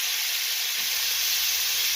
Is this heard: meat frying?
yes